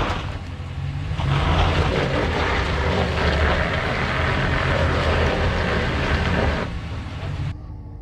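A RAM 1500 pickup in four-wheel drive lock with open differentials strains up a ditch off road, its engine roaring loud and steady for several seconds before easing back.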